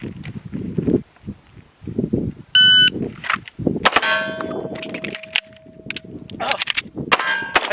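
On an outdoor range a shot timer beeps and a pistol is drawn from the holster. Sharp shots ring out against steel targets with bright clangs, with a pause for a dry-gun reload between them and muffled voices nearby.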